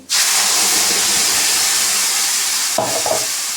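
Ground tomato poured into a hot pan of oil for sambar, a sudden loud steady hiss that starts at once and holds, with a brief clatter near the end, no speech.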